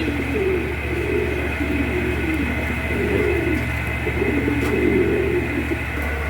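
Pigeons kept for sale coo repeatedly in soft, rolling bursts at a regular pace, close and clear over a constant background hum, with no talk.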